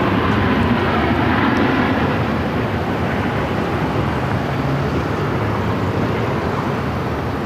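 WestJet Boeing 737 MAX 8 airliner arriving at Phoenix airport, a loud steady jet engine roar that holds evenly throughout, broad and continuous with no voices.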